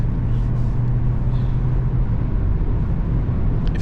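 Steady low road rumble of a Kia Seltos driving on a winter highway, continuous and even throughout with no talk.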